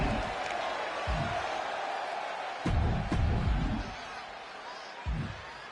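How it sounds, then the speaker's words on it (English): Arena crowd noise from the WWE 2K25 video game, a steady murmuring roar with a few louder swells and cheers rising briefly over the background. "sounds like this crowd is behind him"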